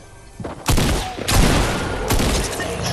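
In Fortnite, loud booming shotgun blasts go off in quick succession, a pump shotgun exchange of about three or four heavy shots with a sustained crackling rumble between them.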